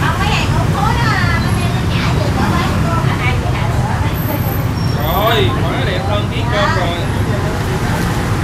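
Steady road noise from jammed traffic between a six-way and a four-way junction, with buses and motorbikes in a constant low rumble, brief horn toots and a busy murmur of people talking close by.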